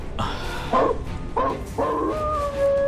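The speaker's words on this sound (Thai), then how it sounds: "รู้ว่าเราได้ยินเสียงหมาหอนคนเดียววะ" A dog howls and whimpers in a series of long, wavering, tonal cries, loud and close, with brief gaps between them and a sustained final howl. The setting is a 1969 Thai film.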